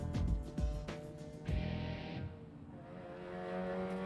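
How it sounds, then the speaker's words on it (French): A rally car skids during a Québec rally championship round at Sanair, with engine roars and revving bursts up close, then a tire-scrubbing slide before a steadier engine drone. "Juste à temps pour voir le dérapage de Éric Courchaine à bord de la voiture numéro 10."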